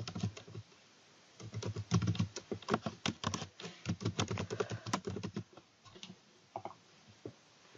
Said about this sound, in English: So type in the email address at first.